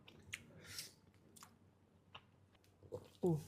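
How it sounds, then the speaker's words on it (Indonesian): Tape uli, sticky rice eaten with fermented cassava, makes soft, close-up chewing and squishy biting sounds in scattered bursts, with a louder bite near the end. "Makan tape uli gini boros di tape, guys, karena enak banget tapenya."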